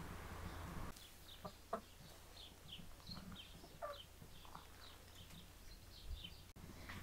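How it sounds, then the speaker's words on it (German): Farm chickens cluck in a barn, with scattered short clucks and squawks at varying distances over a low background hum, and no talking. "Die Hühner sind heute ein bisschen frecher als sonst."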